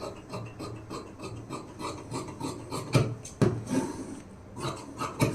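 Scissors cut blouse lining fabric into a rounded boat-neck shape, making close, irregular rasping strokes with a few sharper snips.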